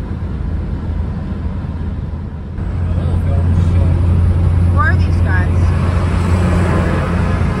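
A car driving on a road outside Vernon, slowing on engine braking through the gears, gives a steady low engine drone with road rumble that swells partway through and holds loud to the end.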